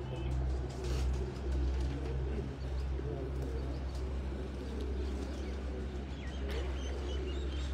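Pigeons coo steadily in a loft or on a rooftop, a low continuous burbling over a constant background hum, with no voices.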